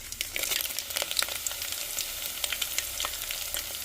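Urad dal and dried chillies crackle and sizzle in hot oil in a home kitchen, a steady close frying hiss dotted with quick pops throughout.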